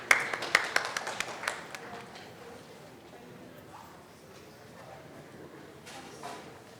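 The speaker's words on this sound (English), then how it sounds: "A huge round of applause for the next panel" An audience at a legal association's Constitution Day panel event gives a brief burst of scattered clapping that quickly thins out and fades into the quiet murmur of the hall.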